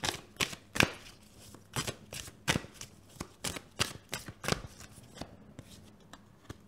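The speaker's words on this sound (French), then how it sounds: "on va prendre une dernière carte" Tarot cards being shuffled by hand, a quick series of crisp riffling snaps and slaps at irregular intervals, close and quiet.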